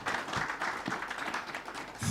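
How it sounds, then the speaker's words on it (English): A modest launch-event audience claps for the company CEO, a brief, fairly quiet patter of hands from a small crowd, steady across the clip with a slight swell at the end. "let's give our CEO, Madam Mahonga, a better round of applause, ladies and gentlemen"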